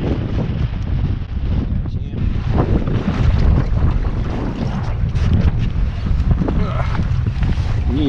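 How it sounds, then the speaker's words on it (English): A strong winter gale roars across a small fishing boat out on Lake Macquarie, buffeting the microphone with loud, continuous gusts as water slaps the hull. A voice speaks faintly beneath the wind. "Blowing an absolute gale out here now."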